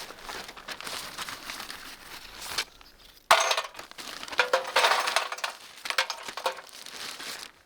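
Fire rocks tossed into an Ignik FireCan fire pit at a truck camping spot, giving loud continuous rattling, crunching and clinking in two bursts separated by a brief pause; no talk.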